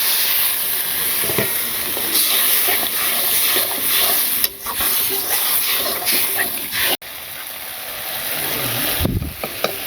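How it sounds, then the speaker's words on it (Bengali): A spice mixture sautés with a splash of added water in a pan in a village kitchen, giving continuous loud hissing and steamy sizzling with a few stirring knocks throughout. "তো আবার আর একটু জল দিয়ে ভালো করে কষি"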